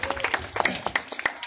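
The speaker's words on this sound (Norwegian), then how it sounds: "En stor applaus til Marit" An audience gives a round of applause after a volunteer helps at a magic show in Horten, Norway, with quick uneven claps rising and falling up close as a voice speaks over them.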